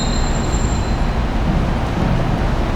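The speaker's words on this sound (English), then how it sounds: "I just get off from the light train at the central bus station." A Bergen light rail train at the central station gives a loud, steady rumble of rolling wheels with faint high whining tones, continuous throughout the short stretch.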